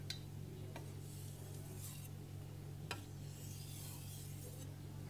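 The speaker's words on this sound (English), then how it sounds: "removing the burr with some edge leading strokes" A knife edge rubbed across a Morihei whetstone in edge-leading strokes to remove the burr, making a few faint, scattered rasping scrapes over a steady low hum.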